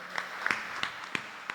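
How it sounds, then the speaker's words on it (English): A handful of separate, sharp claps at a Ford car show gathering, spaced irregularly and fairly faint, sounding like a small, scattered round of applause. "So I'd like to have you all give yourself a round of applause."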